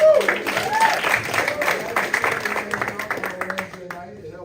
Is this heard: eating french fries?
no